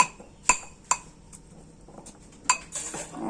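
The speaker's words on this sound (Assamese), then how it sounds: "খুন্দাটো ভাল হ'ব লাগে, কাঁইটবোৰ খুন্দি যাব লাগে" Fried fish head and bones are pounded with other ingredients in a mortar, giving three sharp, close pestle strikes with ringing clinks, spaced irregularly over a quiet background.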